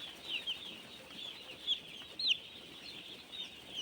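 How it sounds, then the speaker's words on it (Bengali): A baby chicken held in a hand gives repeated high, thin cheeps, several short peeps scattered over a steady background hiss, close to the listener with no talking. "মুরগির বাচ্চা। একটা হাতে তুলে দেখাচ্ছি, দেখতে পাবে।"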